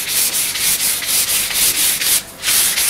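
Worn, clogged sandpaper rubs along a wooden snooker cue in steady back-and-forth strokes, a loud continuous hiss pulsing with each pass and one short break near the end.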